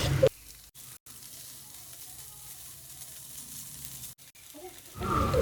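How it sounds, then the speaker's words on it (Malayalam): Cooked chicken being mixed into a spiced masala in a frying pan, giving a low steady sizzle with faint stirring scrapes, bracketed by brief louder bursts at the start and end. "എന്നിട്ട് ഇതിലേക്ക് വേവിച്ച് വെച്ച ചിക്കനും കൂടി ഇട്ടിട്ട് ഒന്ന് മിക്സ് ചെയ്തെടുക്കുക"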